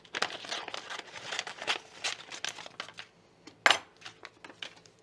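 Scissors cutting a paper sewing pattern for trousers, close and fairly quiet, with crisp crinkling paper and a series of short snips, one sharper cut standing out.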